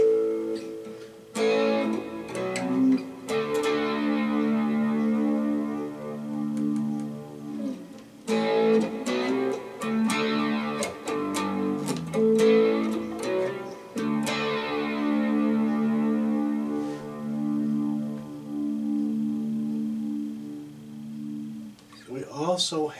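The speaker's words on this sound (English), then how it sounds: "Delay, we have some echo tape." Electric guitar played through a Positive Grid Spark 40 practice amp with AC boost, overdrive and tape echo delay, strummed chords ringing out with repeating echo tails in sustained phrases, loud and close throughout.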